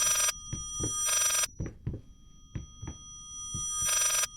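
A telephone bell rings in repeated bursts in the video game Layers of Fear, with thuds and footsteps in between; a shrill electronic ring, fairly close and loud.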